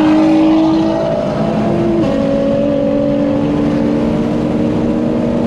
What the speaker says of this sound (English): At least we got to hear the GTR's exhaust for a little bit as it blows by us